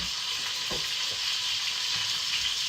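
Steak searing on high heat in a hot pan, a steady loud sizzle with a few faint clicks of the meat being handled, no talk.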